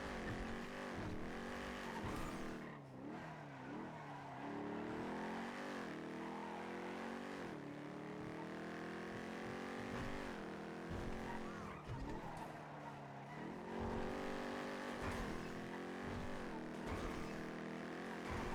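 A car in a police pursuit in the NoPixel 4.0 role-play game, its engine revving and shifting continuously with tire squeals through drifting turns, steady and close throughout with no talk.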